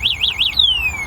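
The anti-theft alarm on an IRGC40 mini golf cart sounds close and loud: three rapid warbling siren sweeps followed by one long falling electronic tone.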